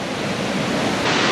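Water rushes down a gorge near Alva in a constant broadband roar heard from a distance, growing slightly louder toward the end, with no voices.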